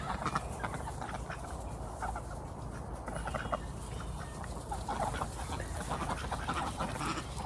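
A flock of runner ducks quacks and chatters continuously, a busy overlapping mix of calls at moderate distance with no one speaking.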